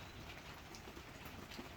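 Steady afternoon rain falls around a vintage country house in the countryside, a soft, even hiss of drops on surfaces that continues without a break, quiet and fairly distant.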